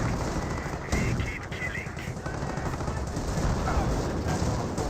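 Ostwind anti-aircraft tank in Company of Heroes firing on commandos: dense, continuous bursts of rapid autocannon fire mixed with battle noise, steady and loud throughout, with faint voices underneath.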